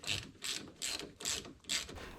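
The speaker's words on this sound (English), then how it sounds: "I can actually turn the wrench by hand" A wrench ratchets while turning a banjo bolt on the front brakes of a Dodge Dakota, five quiet, close clicking bursts in an even rhythm.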